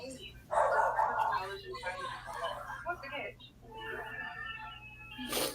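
Several short dog barks and yips ring out over a podcast conversation, with people talking throughout and the barking rising above the voices now and then.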